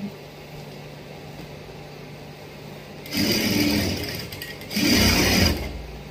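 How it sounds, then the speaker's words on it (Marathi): A new domestic sewing machine set to stitch length 5 runs in two short bursts of rapid mechanical whirring and clatter over a low background hum, each lasting about a second or two. "मी तुम्हाला आता शिलाई देऊन दाखवते."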